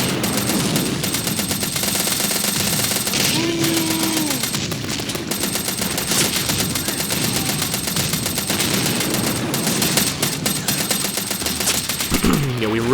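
Machine gun fire in the World War II strategy game Men of War: Red Tide, rapid continuous rattling bursts over a dense battlefield din with engine rumble and explosions, loud and unbroken throughout.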